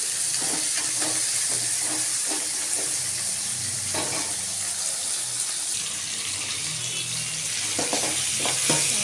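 Puffed rice (borugulu) frying in a pan with green chillies and curry leaves, stirred now and then, giving a steady low sizzle broken by scraping and clinking spoon strokes, with no talking.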